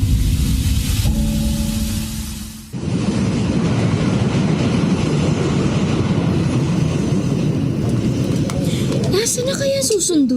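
A train arriving at a station rumbles loudly and steadily after a brief quieter rattling start, with a high squeal near the end.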